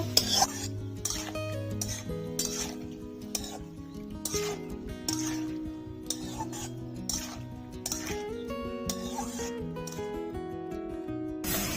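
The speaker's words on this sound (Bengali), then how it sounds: "বন্ধুরা মশলার সাথে সব সবজি ভালো করে কষিয়ে নিয়েছি।" Radish, potato, eggplant and spinach being stirred in a pan with turmeric, ground coriander-cumin, chili powder and a little water: repeated spatula scrapes and clinks against the pan, close, over steady background music.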